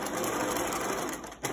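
Sewing machine running a zigzag stitch over wire along a cloth mask edge, a fast steady mechanical whir with rhythmic needle clatter, close and continuous, slowing briefly near the end before picking up again.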